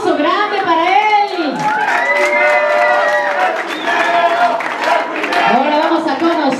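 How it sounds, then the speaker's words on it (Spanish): Audience at a zombie cosplay runway show claps and cheers steadily throughout, with children's voices and a loud voice over a microphone carrying through the crowd noise. "Un aplauso grande para él."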